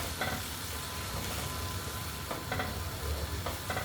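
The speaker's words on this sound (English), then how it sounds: "The red bell peppers will cook for some time, approximately 10 to 15 minutes, so it's properly cooked." Red bell peppers fry in a pan with a steady broadband sizzle, broken by a few soft scraping stirs, close and moderately loud with no talking.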